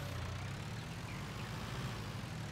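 The Uzel tractor engine in a farming video game gives a faint, steady, low rumbling idle throughout, with nothing else heard.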